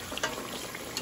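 Thinly sliced sweet potato shoots cooking with sugar in a pan, with a soft continuous sizzle under a few light scraping stir strokes, close and fairly quiet.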